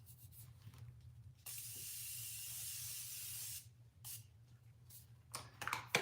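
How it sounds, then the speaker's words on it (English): A fine makeup setting spray mist hisses out in one long burst of about two seconds, followed by a couple of shorter quick spritzes in a quiet room. "spray before, during, and after our setting mist"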